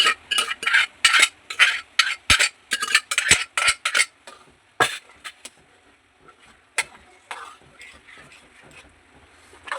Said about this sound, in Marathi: सर्व हे एकजीव करून घ्यायचे आणि मस्तपैकी पावभाजी आता एक दहा मिनिटात रेडी होणार आहे